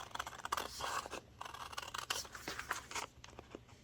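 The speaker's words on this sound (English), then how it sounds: "I will take these scissors and I cut the end of my envelope" Scissors snip and crunch through the end of a paper envelope in a series of short, uneven cuts, close and fairly quiet, with light scraping between strokes.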